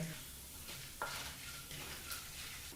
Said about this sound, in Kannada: ಹಾಗೆ 1 ಟೇಬಲ್ ಸ್ಪೂನಷ್ಟು ಉದ್ದಿನಬೇಳೆನೂ ಹಾಕಿ 1 ನಿಮಿಷಗಳ ಕಾಲ ಲೋ ಫ್ಲೇಮ್ನಲ್ಲೇ ಇದನ್ನೆಲ್ಲ ಫ್ರೈ ಮಾಡ್ಕೋಬೇಕಾಗತ್ತೆ